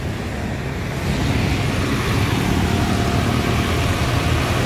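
A medium-size intercity bus on the Palembang–Pagar Alam route idles during warm-up while being serviced, a steady low engine rumble that runs evenly for about five seconds with faint road noise in the background.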